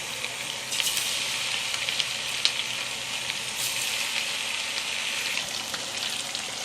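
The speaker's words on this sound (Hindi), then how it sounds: "अभी हम तेल गरम करने रखे। अभी फ्राई करेंगे इसको।" Chicken pieces frying in hot oil in a kadhai for a Chinese-style chicken fry, giving a steady, close, dense sizzle with small crackling pops throughout and no voices.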